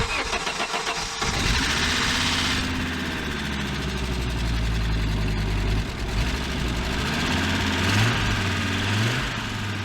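An Audi 200 Avant wagon with high mileage cranks briefly and catches, then settles into a steady, slightly rough idle that continues close and loud throughout with no talking.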